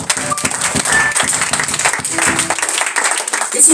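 A church congregation applauds the Holy Bible during a French-language sermon, a dense wash of clapping that runs steadily throughout with a few voices mixed in.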